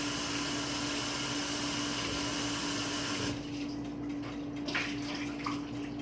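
Hot water runs steadily from a kitchen tap while a glass is rinsed, a dense hiss with a low hum underneath that abruptly drops to quieter splashing and dribbles partway through.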